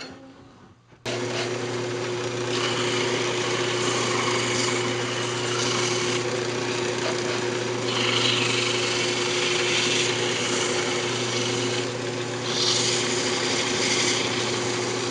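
A wooden hamburger press spins on a lathe as it is sanded, a steady motor whine with a soft, continuous abrasive hiss that swells and eases at intervals, starting abruptly after a brief quiet moment.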